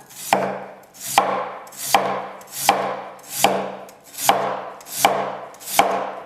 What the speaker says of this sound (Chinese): 把清洗好的土豆切片儿